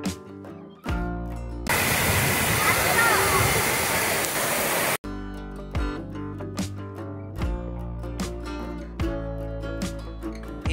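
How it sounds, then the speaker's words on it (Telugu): Chaparai waterfall spreads its flow down a sloping face of large boulders instead of falling straight. A steady, dense rushing roar lasts about three seconds between passages of music. "ఈ చాపరాయి జలపాతం నిట్ట నిలువుగా కాక ఇక్కడ బండరాలపై ఏటవాలుగా ప్రవాహాన్ని కలిగి ఉండడం ఒక విశేషం."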